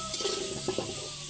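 Potatoes frying in butter in a pan give a soft, steady sizzle with a few brief stirring scrapes, close and fairly quiet, with no talk.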